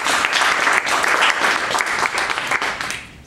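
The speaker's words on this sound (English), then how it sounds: "I think we need to applaud for Martin" Applause from a small audience at a Sage Days 5 final status report session, a steady wash of hand clapping lasting a few seconds before fading out.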